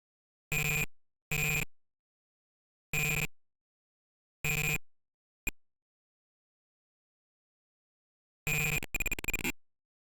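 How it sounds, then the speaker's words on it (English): Super Mario Bros. music rendered through a PC speaker buzzer, heard as short, harsh square-wave beeps in uneven bursts with abrupt silences between them, ending in a quicker cluster of notes. "this one has just support for the buzzer, the PC speaker, and not proper music"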